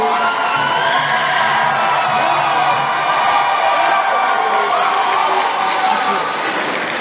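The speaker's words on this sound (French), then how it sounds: "On applaudit très très fort pour elle, s'il vous plaît, mesdames et messieurs." A live audience at a Miss Dary beauty pageant election cheers loudly for a contestant, with dense, steady crowd noise, whoops and shouting running throughout.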